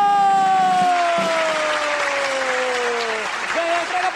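Studio audience applause on a Brazilian TV program after a contestant wins a prize; steady clapping fills the whole moment with a tonal sound falling in pitch underneath.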